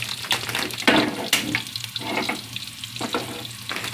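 Dried salted fish (daing) frying in a pan with garlic and onion, a dense close crackling sizzle with scraping stirring bursts near the start, steady throughout with no talking.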